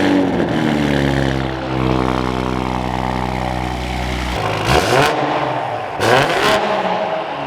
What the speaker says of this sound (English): Whoa, whoa, Levi, are we getting a cold startup?